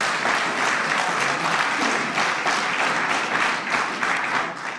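An audience in a parliamentary hall applauds a presidential speech with sustained, dense clapping from many hands, loud and even throughout, gently swelling and easing.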